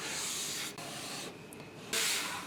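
A wall sconce surface being hand-sanded smooth before a transfer is applied, with rough back-and-forth scraping strokes that pause briefly and then return louder, close up and with no speech.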